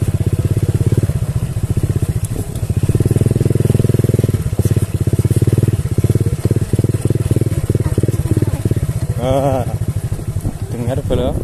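Honda Revo Absolute motorcycle ridden over a rough rice-field track, its engine a loud, steady close drone that rises and falls with the throttle, with brief voices near the end.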